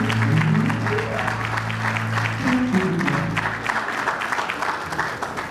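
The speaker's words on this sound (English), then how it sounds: "Please, a round of applause." Audience applause at a book launch for a political author, a dense steady patter of many hands with low musical or droning tones underneath during the first few seconds, continuing evenly throughout.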